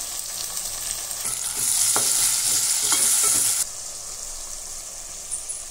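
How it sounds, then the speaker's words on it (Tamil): Onion, tomato and green chilies fry in a pan for a home-style chicken biryani. A steady hiss swells into a louder, brighter sizzle with stirring scrapes midway, then settles back to a gentler fizz. "வெங்காயம் தக்காளி நல்லா வணங்கிருச்சு."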